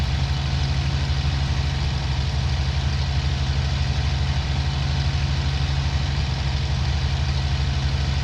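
An aircraft engine in the IL-2 Cliffs of Dover flight game drones at idle during landing, a loud, steady low rumble with a constant hum and no variation throughout.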